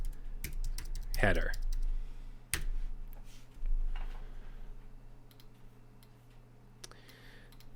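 Rapid keystrokes clatter on a computer keyboard as a command is entered into a terminal, in bursts of close ticks and clicks under a man's speech, with a low electrical hum underneath.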